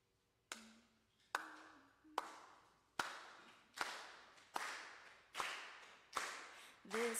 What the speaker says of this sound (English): We're going to get a little clap going.